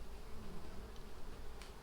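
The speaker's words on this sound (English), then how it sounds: "the bees are now just reorienting to the new location" Honey bees buzz around a hive box set on a new stand, a steady faint drone with a few individual bees passing closer.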